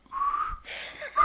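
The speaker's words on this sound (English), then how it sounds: "I'll have a go now, see if I can whistle." A person attempting a whistle with lips together, producing a thin, airy near tone that wavers and breaks partway through, then resumes breathily at the end, alone without talk.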